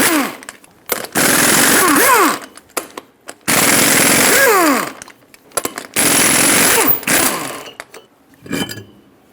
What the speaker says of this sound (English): Now use a 22mm socket to remove all 8 lug nuts and then pull the wheel off.